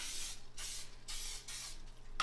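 A spray bottle mists rising homemade bread dough in a series of short, close hissing bursts, about five quick sprays with brief gaps between them, with no voices.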